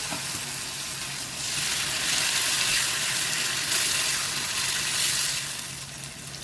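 Blended tomato paste cooks in oil in a pan, giving a steady, fairly soft sizzling hiss that swells louder through the middle and eases off at the end, with no talking.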